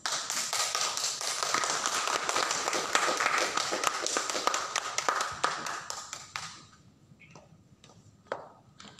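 Audience at a public service innovation award event claps, a dense round of applause that continues for about six seconds and then thins out to a few scattered claps.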